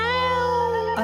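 A man imitates a cat's yowl with his voice. The cry is one drawn-out, tonal wail that stays strong and steady for about a second, then cuts off abruptly.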